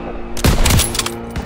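Machine-gun fire rattles in a World War II shooter set in France in June 1944, with loud, close rapid bursts that clatter for about a second before a final short burst.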